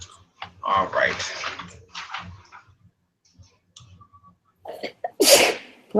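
Two loud, sharp sneezes ring out close by, one early and one near the end, with quiet gaps and a few small clicks between.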